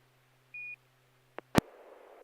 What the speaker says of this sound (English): Ignore the smoke alarm.